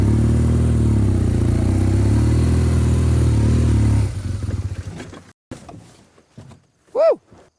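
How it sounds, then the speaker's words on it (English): A motorbike revs loud and close while climbing a steep wet grassy hill, then cuts out as it tips over with a clatter and scrape, followed by quieter rustling and a short voiced shout. "The bike tipped over when I dropped it on the hill."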